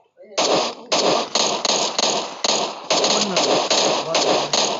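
Rapid gunfire in the battle-royale game PUBG: about a dozen loud, sharp bursts in quick, slightly uneven succession, close and dominant, with excited voices mixed in.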